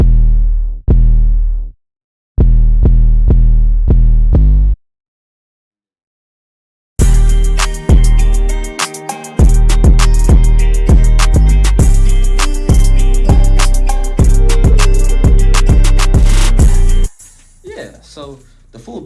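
Short, punchy 808 bass hits from a drum kit thump in repeated bursts, first alone with gaps between them, then locked into a full trap beat with hi-hats and guitar, loud and upfront.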